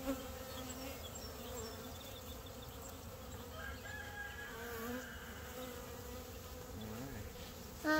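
A honeybee swarm buzzes continuously up close, a dense droning hum with individual bees whining past in shifting pitches, steady throughout with no talking.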